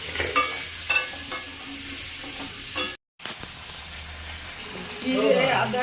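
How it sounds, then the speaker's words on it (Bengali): Spices with salt and turmeric frying in a pan, a steady close sizzle with intermittent spatula taps and scrapes, briefly cut out before the sizzle resumes and grows louder. "লবণ দিলাম হলুদ দিলাম এবার ভালো করে একটু ভেজে নেব"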